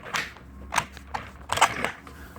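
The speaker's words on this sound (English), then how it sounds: "They snap in, I'll show you." Folding legs of a Cellerciser rebounder trampoline snap into place with four or five sharp, close clicks and clacks spread irregularly over a couple of seconds, against a quiet background.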